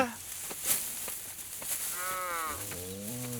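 Cattle being fed hay low with long, drawn-out moos in a farm setting, one call following another over faint background noise.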